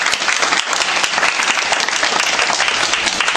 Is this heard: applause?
yes